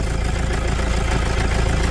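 A diesel engine with about 670,000 km on it idles after a full turbocharger replacement, giving a close, steady, even rumble with no breaks.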